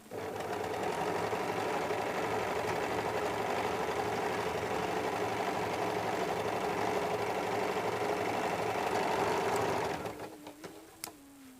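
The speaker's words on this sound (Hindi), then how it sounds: "ये आगे इस पे हमें डबल सिलाई करनी होती है, थोड़ा सा 1/4 इंच के गैप में इस तरीके से।" A sewing machine runs steadily, double-stitching a belt blouse with a quarter-inch gap, a loud continuous mechanical whir with rhythmic pulsing that slows and stops near the end.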